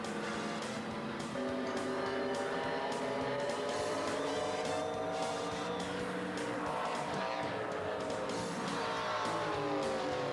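Stock car racing on a track heard from inside the car: a loud, unbroken engine roar at high revs, rising and falling in pitch with gear changes and throttle, steady throughout.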